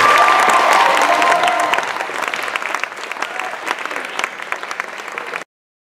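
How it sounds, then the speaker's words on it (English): A large audience at a band banquet bursts into loud, sustained applause with a few cheers, which settles into a lighter steady clapping before stopping abruptly. "Give another round of applause."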